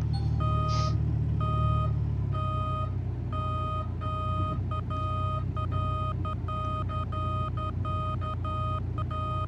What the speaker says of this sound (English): I hadn't fixed that backup buzzer though.